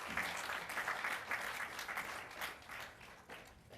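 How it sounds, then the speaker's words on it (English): Audience applause breaks out after a talk on 3D printing and a bionic arm at a RedX 2015 innovation event, a dense, steady wash of many hands clapping at moderate volume, slowly easing toward the end. "I appreciate the applause"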